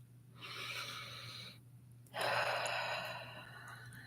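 Two slow, deep in-breaths during a tapping meditation, close and quiet, separated by a short pause, with a faint steady hum underneath.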